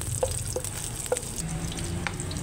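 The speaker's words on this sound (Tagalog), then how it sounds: "Gisa lang natin dyan guys." Crushed garlic sautéing in oil in a pan with a steady, close sizzle, broken by a few soft taps and scrapes of a utensil.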